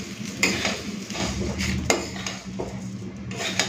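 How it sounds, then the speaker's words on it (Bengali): Rice frying in a pot for basanti pulao, repeated scraping and clinking strokes of a spoon against metal over a low sizzle, close and rhythmic, no talking. "এখন চালটাকে ভেজে নেব।"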